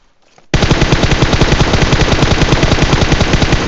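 Loud sustained automatic gunfire in a shooting video game, a rapid unbroken stream of shots that starts abruptly after a quiet moment and continues to the end.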